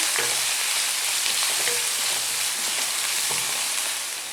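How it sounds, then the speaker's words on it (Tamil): Onion, green chilli and plenty of curry leaves fry in hot oil, giving a steady, dense sizzle with a few soft stirring scrapes, close and continuous, no voices. "எல்லாத்தையுமே வந்து நம்ம நல்லா ஃப்ரை பண்ணிக்கணும்"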